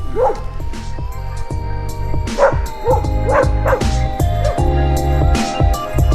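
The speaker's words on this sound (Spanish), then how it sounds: "salvo los perros que se pusieron a ladrar" Several dogs bark and yip repeatedly near a vineyard on the road to Potrerillos, Mendoza, some close and loud, others farther off, in an irregular overlapping chorus with a steady low hum beneath.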